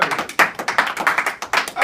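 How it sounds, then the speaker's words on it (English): Children clapping on cue at a classroom gathering after standing up, a ragged burst of quick claps with uneven rhythm, fairly close, with a voice speaking over it. "Come on, round of applause, let's go."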